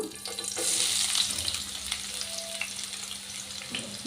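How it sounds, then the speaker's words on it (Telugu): Sliced onions and cloves frying in hot oil in a pan, a steady close sizzle with occasional stirring scrapes throughout, no talking. "గోల్డెన్ బ్రౌన్ వచ్చే వరకు ఇలా ఫ్రై చేసుకున్నాం"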